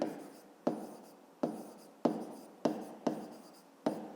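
Pen writing in a school notebook, a string of short scratchy strokes each starting with a light tap, close and quiet with no voice.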